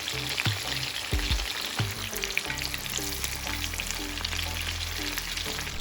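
Steady crackling sizzle of Taiwanese fried chicken pieces frying in hot oil, continuous and close, with occasional louder pops and bubbling.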